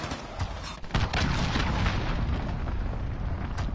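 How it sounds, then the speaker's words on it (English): A cruise missile strike in Call of Duty Modern Warfare, heard as a sustained rumbling, roaring blast that stays loud and dense for several seconds after a sharp onset, with no talking. "Enemy cruise missile, take cover!"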